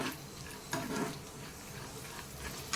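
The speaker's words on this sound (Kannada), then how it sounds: "ಒಣ ದ್ರಾಕ್ಷಿ ಉಬ್ಬುವರೆಗೆ ನಾವು ಇಲ್ಲಿ ಇದನ್ನು ತುಪ್ಪದಲ್ಲಿ ಫ್ರೈ ಮಾಡ್ಕೋಬೇಕಾಗತ್ತೆ" Raisins fry in ghee in a pan until they puff up, giving a soft steady sizzle with a couple of faint stirring bumps, quiet and close, and no one talking.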